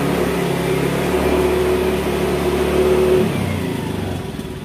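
A Honda Beat scooter with a faulty throttle position sensor, revved gently from idle, its engine rising to a steady, moderate hum up close for about three seconds before easing back down, with no talking.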